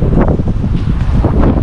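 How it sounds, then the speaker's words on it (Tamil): Strong wind gusting across Sabina Park cricket stadium in Kingston, Jamaica, a loud, continuous rushing roar with heavy microphone buffeting throughout, no speech. "காற்று என்னமா அடிக்குது பார்த்தீங்களா, விசி விசி விசி விசி விசுன்னு."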